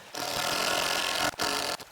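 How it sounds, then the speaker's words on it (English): A power drill whirs steadily as it drives a long screw into timber outdoors, cutting out briefly and restarting before stopping, close up with no talking. "selecting our longest screws that we've got here and just drive them on through"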